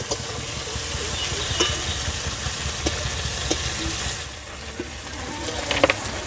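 Prawns fry in a pan in a village-style kitchen, a loud continuous sizzle with scattered clicks as they are turned, easing briefly before a few sharp clatters near the end.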